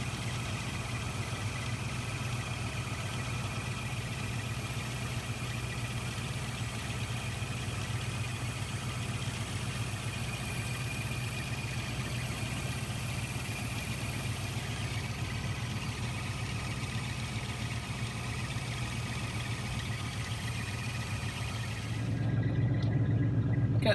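A Rover SD1 V8 engine idles with a steady, low rumble and a smooth, even beat close to the microphone, then the sound shifts briefly near the end.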